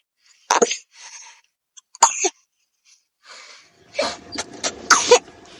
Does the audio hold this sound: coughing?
yes